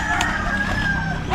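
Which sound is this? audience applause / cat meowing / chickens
chickens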